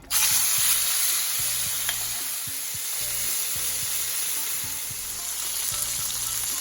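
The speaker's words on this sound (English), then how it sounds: "Alright, let's cook the pork." Pork hitting a really hot pan, a sudden loud sizzle that settles into a steady close hiss of frying meat, with faint soft background music and no talking.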